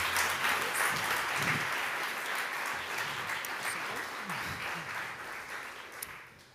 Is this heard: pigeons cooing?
no